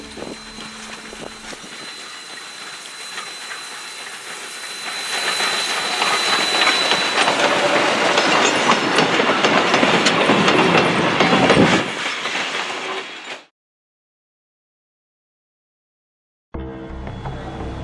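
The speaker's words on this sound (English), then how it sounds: "watch Hocking Valley Railway No. 3 as it trembles down the Hocking Valley" Hocking Valley Railway No. 3, a small steam locomotive, runs through the Hocking Valley near Nelsonville, Ohio, with a loud rushing roar and rail clatter that builds and holds. It drops to sudden silence, then resumes briefly.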